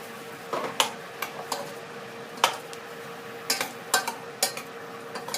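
Sharp metallic scrapes and clinks of a utensil against a pan as fresh sliced pig ears are stir-fried, irregular and close, with a steady low sizzle underneath.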